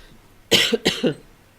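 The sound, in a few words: coughing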